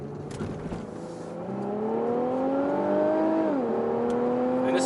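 An Infiniti Q50 S Red Sport in automatic mode accelerates, its engine note climbing smoothly through a gear, dipping briefly at a shift, then rising again, fairly close and moderately loud.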